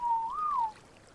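A whistle command in the video game ARK: Scorched Earth, a single clear tonal whistle that holds, rises briefly, then falls away, lasting under a second, close and clean over faint background.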